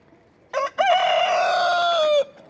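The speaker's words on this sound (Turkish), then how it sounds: "Horozun sesi bir yandan, tavuğun kok kok kok kok demesi bir yandan." A rooster crows once, loud and close, a long drawn-out call that starts with a short rising note.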